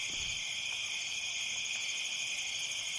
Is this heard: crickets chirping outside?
yes